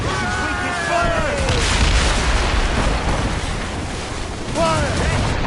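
Cannon volley firing aboard a sailing warship in Assassin's Creed Rogue, a dense rumbling barrage of booms rolling steadily under shouted crew orders and voices.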